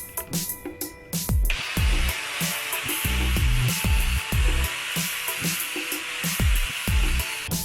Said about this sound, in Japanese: この辺のリアのナックルとかローアームが、アルミでできてるんで、比較的、さっくり削ることができました。